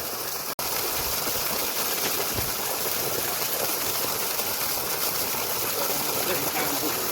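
Steady, loud rush of water pouring out continuously from a borewell pump outlet driven by a 7.5 hp motor, broadband and unbroken, with a brief dropout near the start.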